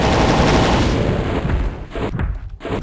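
Weapon fire in the Doom custom map Xmas99, loud and dense with overlapping blasts and rumbling booms, easing after a second into a few sharper, spaced shots.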